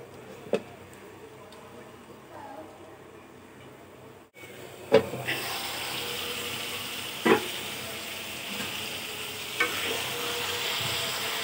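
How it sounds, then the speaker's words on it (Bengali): Bitter gourd curry stirred in a pan, with a soft scraping stir, a few sharp clicks of a lid being set down, then a muffled steady sizzle under cover. "এখন আমি নেড়ে চেড়ে একটু ঢাকনা দিয়ে ঢেকে দেব করলাগুলো সিদ্ধ হওয়ার জন্য।"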